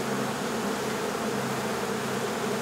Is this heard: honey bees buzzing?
yes